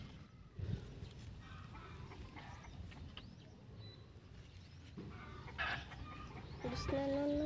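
Chickens cluck and squawk nearby amid a busy outdoor background, with a louder burst of calls toward the end.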